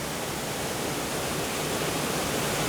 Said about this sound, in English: you get to walk underneath that waterfall right there